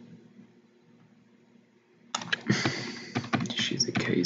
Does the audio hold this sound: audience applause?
no